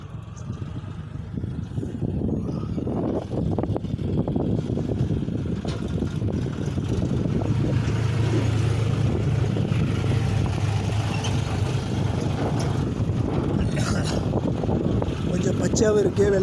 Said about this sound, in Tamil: நம்மளுக்கு வர டிப்பர் தான் போயிட்டுருக்கு.